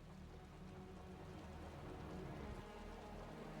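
Steady rain falling in the video game Wuthering Waves, a dense continuous wash of drops with a low rumbling undertone, constant and fairly quiet throughout with no voices.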